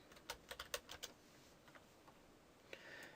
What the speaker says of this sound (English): I'm going to type Notepad in here